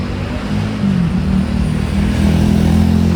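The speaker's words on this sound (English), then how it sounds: "Garbage truck." A garbage truck passing in a town street, a steady, loud, low engine rumble that swells slightly as it goes by, with no voices.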